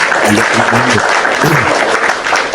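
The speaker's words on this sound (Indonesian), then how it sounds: "Tepuk tangan untuk kita semua." An audience at a religious discussion gathering claps in a loud, dense burst of applause that holds steady for a couple of seconds, with faint voices mixed in.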